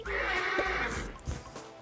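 A horse in a video game gives a short, loud neigh with a rising then falling whinny, and faint hoof clops follow.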